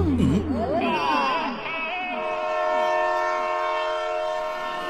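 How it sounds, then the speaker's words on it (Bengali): A train pulls into a station with a loud sustained horn blast over its low rumble, the horn holding steady and close throughout. "ট্রেন চলে এসছে।"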